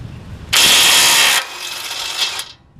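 A power tool loosens the lower front shock bolt during a suspension lift install. It starts with a loud, close burst of about a second, then drops to a quieter whir that trails off.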